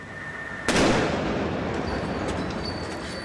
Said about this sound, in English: One of the devices explodes as a police robot tries to disarm it this morning.